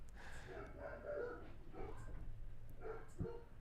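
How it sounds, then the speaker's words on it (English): Indoors, dogs bark and yip in short excited bursts as a delivery arrives at the front door, heard fairly far off and faint, mixed with snorting and whimpering. "Amazon delivery must be at the front door because the dogs are going crazy"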